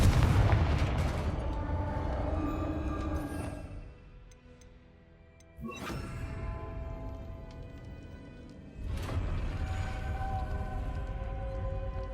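A Confringo fire spell from Hogwarts Legacy erupts in loud booming blasts, one burst at the start and two sharp impacts near six and nine seconds, each followed by a rumbling tail over a steady game ambience.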